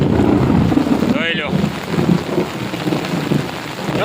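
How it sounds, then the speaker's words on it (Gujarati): Heavy rain falls with a dense, loud hiss, buffeted by wind, while a brief thunder rumble swells in the middle of a thunderstorm with lightning. "લો આજનો જોરદાર વરસાદ"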